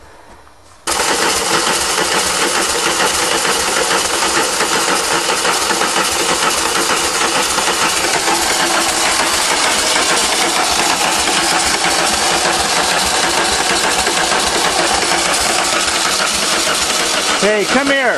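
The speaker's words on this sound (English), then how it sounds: "so he's just cranking it to prime it" A VW diesel engine with a freshly replaced head is cranked by the starter to prime the fuel system, giving a loud, continuous rapid mechanical churning and knocking that runs steadily for about seventeen seconds close up.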